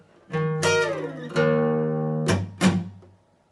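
Electric guitar plays the opening phrase of a song slowly: a few ringing chord strikes and sustained notes, each bloom decaying before the next, clean and close with no voices.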